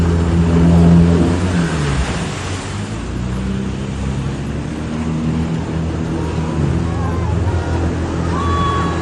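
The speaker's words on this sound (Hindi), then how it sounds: "दूसरा बंदा छोटा भाई जा रहा है जेट स्की के ऊपर।" A jet ski engine drones over the water at Khanpur Dam, loud and steady with a surge near the start, mixed with wind and background voices.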